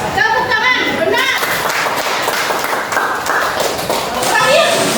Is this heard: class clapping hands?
yes